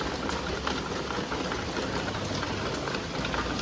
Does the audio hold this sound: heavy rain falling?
yes